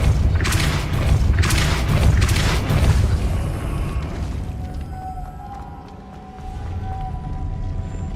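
Depulso force spell cast in Hogwarts Legacy on PS5, a burst of heavy booming thumps and blasts up front that fades into a low mechanical rumble with a faint tone afterward.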